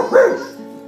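A dog gives a single short, loud bark-like yelp, close and alone, trailing off quickly, within a children's song.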